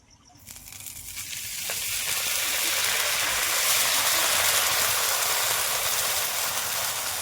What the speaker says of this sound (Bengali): এই আঁচটা পিঠের বা সরু চাকলি পিঠের যদি এই আওয়াজটা না হয় তাহলে মনে হয় না যে পিঠে হচ্ছে